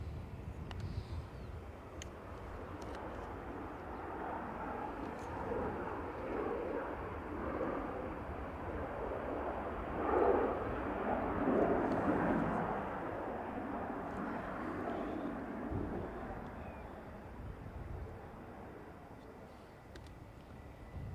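An Aer Lingus Airbus A321XLR jet moves at Dublin Airport, a soft, distant engine rumble that swells gently toward the middle and fades slightly at the end, with faint clicks scattered through.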